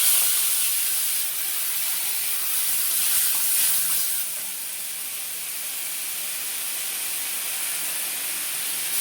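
A paste of ground onion, ginger and green chili with turmeric and salt sizzles in a pan, making a loud, continuous bright hiss that eases slightly after a few seconds and then holds steady, with no voices.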